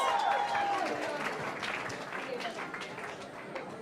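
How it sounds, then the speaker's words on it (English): Audience applause after a dance performance at a Diwali program at Shree Ram Kabir Mandir, a steady wash of clapping from a crowd that slowly thins over a few seconds, with a brief whistle-like tone at the start. "Give them another round of applause"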